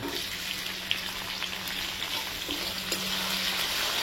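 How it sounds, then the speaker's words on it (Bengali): Onions fry in a pan with a soft, continuous sizzle and crackle, fairly quiet and steady throughout with a few small clinks. "তো পেঁয়াজটাকে একটু ভাজা ভাজা করে দিই"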